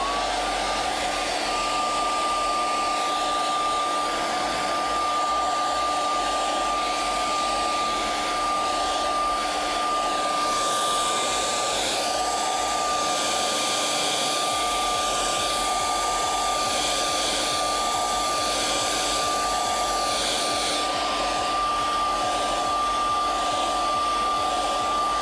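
A hair dryer blows steadily on puppet craft pieces for about 25 seconds, a loud continuous whir with a constant tone, rising slightly in intensity partway through, with no talking.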